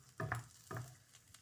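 Onion in hot oil on a stove, heard as two short scraping stirs in the pan followed by a faint low sizzle, quiet and close with no speech.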